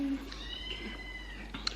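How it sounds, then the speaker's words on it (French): A cat meowing indoors, one drawn-out mewing call over a steady low background hum, faint and brief with a small clatter near the end. "Qu'est-ce qu'il veut le chat là?"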